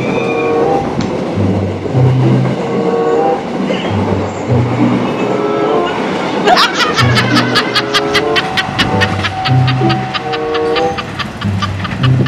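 Train at Keramat railway station, a rhythmic low rumbling and clacking of rail cars passing close by, with a burst of sharp metallic squeals and clicks midway, under occasional voices.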